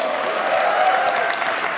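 An audience applauds steadily for a short burst, a dense, even clatter of many hands at a comedy show with no voices over it.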